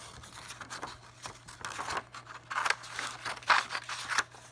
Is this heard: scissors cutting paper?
yes